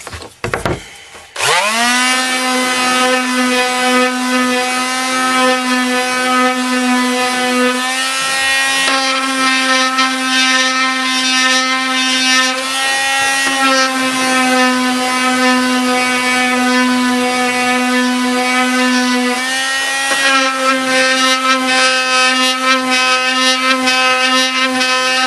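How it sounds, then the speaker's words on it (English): A power sander bevels the edges of an oak trivet in a workshop, giving a loud, continuous high whine after a brief start-up that holds steady nearly throughout, with slight dips in pitch as pressure changes. "I'm just going to bevel these 4 edges with the sander"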